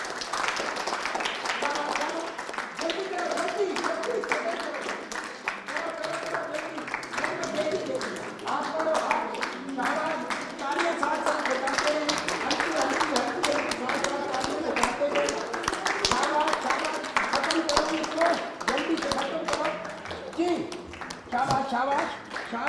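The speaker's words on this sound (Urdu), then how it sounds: "شاباش شاباش شاباش، تالیاں تو بجتی رہنی چاہیے." An audience claps steadily through a children's competition, a dense, continuous patter of hands mixed with cheering voices and speech throughout.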